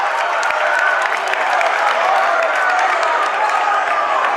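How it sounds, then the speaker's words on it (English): A packed gym crowd at a high school boys' basketball playoff quarterfinal roars and applauds loudly, a dense, unbroken wall of clapping and cheering. "Yeah, it's going to be hard to zone out this crowd. They're just so loud."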